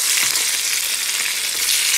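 Koi fish frying in oil in a pan makes a dense, loud, continuous crackling sizzle, close and unbroken throughout.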